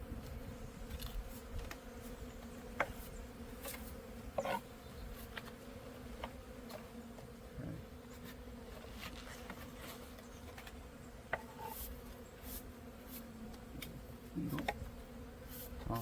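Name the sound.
bees buzzing on a hive frame in backyard apiary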